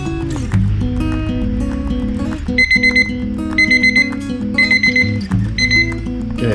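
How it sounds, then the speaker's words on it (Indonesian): An oven timer beeps as DTF film curing finishes, sounding short, high, repeated beeps in quick clusters over steady background music. "itu udah bunyi, tandanya sudah selesai proses ovennya"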